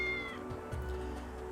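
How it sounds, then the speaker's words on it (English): A cat meows in Digital Devil Saga 2, one drawn-out call at the start over a steady game background hum, followed by a softer trailing cry. "it's that cat!"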